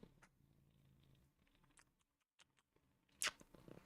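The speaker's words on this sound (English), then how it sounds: "Big loud purring." A cat purrs as a low, rhythmic rumble heard softly up close in a quiet room. A brief sharp rustle cuts in near the end.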